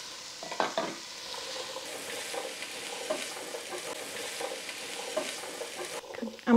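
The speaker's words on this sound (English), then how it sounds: "I'm going to saute these for 10 minutes" Chopped celery, about one and a half cups, sautés in a soup pot with a steady, close sizzle, broken by a few louder scrapes and stirs and a sharper clatter at the end.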